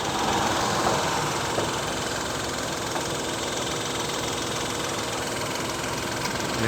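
A Kia Picanto GT 2021's 1-litre three-cylinder turbo engine idling under the open bonnet, a steady, close, throbbing hum that runs unbroken throughout with no talk.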